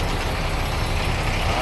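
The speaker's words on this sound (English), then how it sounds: "So here we have tractor trailers coming in" Tractor trailers loaded with bulk salt arrive in a continuous, fairly loud low engine rumble with steady road noise and no break.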